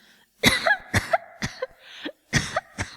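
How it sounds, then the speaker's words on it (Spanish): A burst of sharp, harsh coughs from a young woman in quick succession, about six or seven hacks close to the listener, with short gasps between them. "no sigas tosiendo así"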